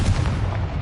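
Confringo blasting spell cast in Hogwarts Legacy: a single heavy, booming magical blast with a dense low rumble that holds steady for under a second, loud and close.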